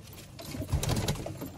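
Old-generation Madras pigeons cooing close by, a short, soft burst of low throaty coos.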